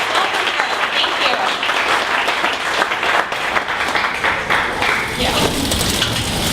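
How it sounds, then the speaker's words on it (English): Steady audience applause for a presenter at a morning startup pitch event, dense continuous clapping filling the room at full loudness with no talk over it. "So everyone, please give a big round of applause."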